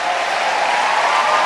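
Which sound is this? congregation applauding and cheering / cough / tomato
congregation applauding and cheering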